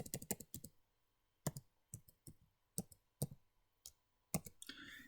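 Typing on a computer keyboard: sharp, close clicks come in irregular bursts with short pauses between them, fairly quiet and alone.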